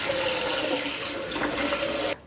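A tap runs steadily into a container as water is refilled for a potted philodendron, a close, loud continuous rush that cuts off abruptly near the end.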